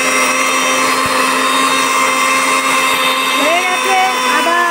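An electric grinder churns ginger, cumin and fennel into a spice paste for lentil bori, giving a loud, steady motorized whir with a whining tone that runs unbroken from start to finish.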